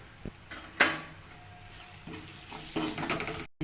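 Turmeric, red chilli and salt stirred by hand into fried brinjal for bharit, giving soft scraping and clinking strokes in a pan with a faint sizzle, in intermittent bursts and fairly quiet.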